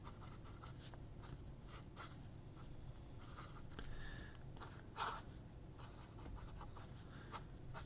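Nib of an Omas Ogiva demo fountain pen with a fine, slightly wet nib scratching faintly across paper in short strokes, quiet and close against a low room hum, with one brief louder scrape midway and no talk.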